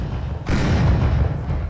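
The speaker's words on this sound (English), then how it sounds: "There's explosions" Explosion in the Roblox game Piggy, a sudden heavy boom that hits after a brief quiet lead-in and rumbles on loudly with a deep low-end tail to the end.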